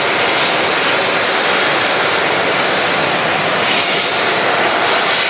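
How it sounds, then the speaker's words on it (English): Air Transat Airbus A330 jet passing close by at Manchester Airport, a loud continuous engine roar filling the whole stretch with no voices. "Transat A330 was passing right in front of us in from Toronto"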